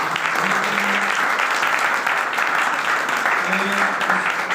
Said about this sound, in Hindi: मैं एनी के लिए ज़ोरदार तालियां बजाऊं।